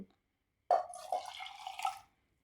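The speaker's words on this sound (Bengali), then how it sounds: "এবার আমি মিক্সির জারের মধ্যে দিয়ে দেব আর এক কাপ জল" A cup of water poured into a mixer jar, a single short splashing pour lasting under two seconds after a brief silence, close and alone.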